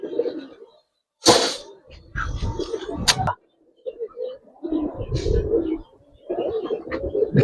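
Giribaz coloring racer pigeons coo in a loft, with repeated throaty bursts, some close and loud, separated by short silences and mixed with rustling and wing movement.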